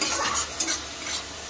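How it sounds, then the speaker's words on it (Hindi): Turmeric paste being stirred into frying matar paneer masala: a close sizzle with soft scraping strokes of a spoon in the pan, brief and without talk. "उसके बाद ये हल्दी, इसको मिला लेते हैं अच्छी तरीके से"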